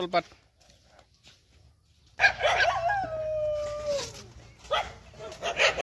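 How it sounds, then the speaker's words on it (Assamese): After a quiet start, a dog bursts into loud barking with a drawn-out howling yelp, followed by more barks nearby. "এই কুকুৰবিলাক বা কি হৈছে পুৰা ভুকিব লাগছে"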